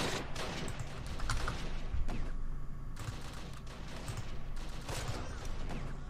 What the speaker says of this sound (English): I hear grenades going off